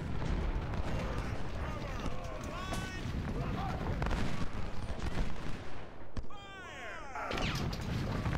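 Musket fire and artillery from a Civil War battle in Ultimate General: Civil War, scattered shots and distant booms over constant battlefield din, with a sharp crack late on and a voice talking throughout.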